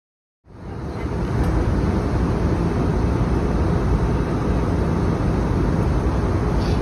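Steady, loud broadband roar of an airliner cabin during descent toward Osaka, rising abruptly at the start and then holding a constant rushing engine and airflow drone with no voices.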